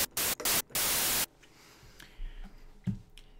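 Bursts of loud white noise from a synth plugin in FL Studio, switching on and off in short blocks before one longer sustained wash, then dropping away to faint low clicks and hiss.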